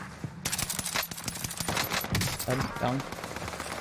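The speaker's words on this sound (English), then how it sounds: "I'm gonna shoot him." Bursts of automatic gunfire rattle through a Warzone match, rapid cracks layered with short in-game effects, while players talk over the shooting.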